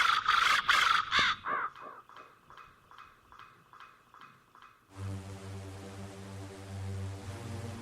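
A raven caws loudly several times in quick succession in a horror audio drama, followed by a rhythmic clip-clop of hooves and then sustained low music.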